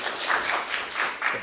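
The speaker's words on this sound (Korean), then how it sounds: "교수님의 이제 강연을 박수로 맞이하겠습니다" Brief audience clapping welcoming a university lecture at a mechanical engineering seminar, a short run of soft, evenly spaced claps in a small room.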